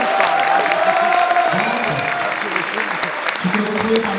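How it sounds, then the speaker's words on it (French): An audience at a LAN gaming tournament applauds a finalist player, clapping and a little cheering sitting under and around a person talking, with the hall's sound fairly close and steady. "Applaudissements pour lui"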